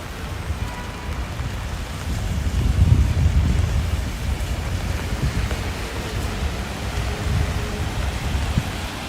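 Steady rain hissing on a Toronto street with a low rumbling undertone, continuous and fairly close, no voices.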